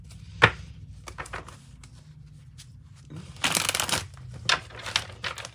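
A Rider-Waite tarot deck shuffled by hand, close papery riffles and snaps, with one sharp tap early and a dense rustling burst later, alone without talk.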